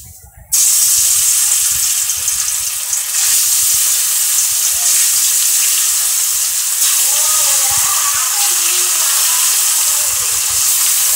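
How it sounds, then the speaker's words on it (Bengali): Fish fries loudly in hot oil, a sudden burst of sizzle as it goes in, then a dense continuous hiss and crackle close by for several seconds. "প্রথমে আমি মাছ ভেজে নেব"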